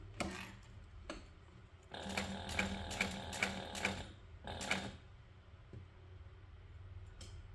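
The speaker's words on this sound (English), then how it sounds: "I like to sew across the top and then back stitch all the way across, and then sew all the way back across again" A sewing machine stitches across webbing in short bursts of rapid mechanical clatter, with one sustained run of repeated stitching in the middle, quiet pauses and single clicks between the bursts.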